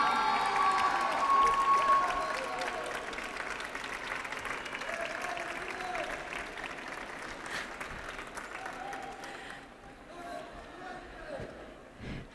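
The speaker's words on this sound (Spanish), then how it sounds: "pido un aplauso para Soledad Estellano" A crowd applauds warmly at a 25th-anniversary celebration for architecture graduates, honouring a class ambassador. Steady, full clapping fills the room, then thins toward the end, with a few scattered voices mixed in.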